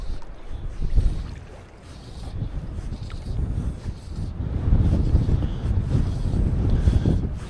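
Wind gusting by the water on a pike fishing trip, a steady low rumble buffeting the microphone, dipping briefly then building stronger and more sustained toward the end.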